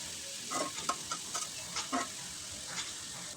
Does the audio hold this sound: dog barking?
no